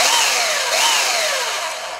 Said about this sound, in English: that has a revolving belt, like a belt sander, a mini belt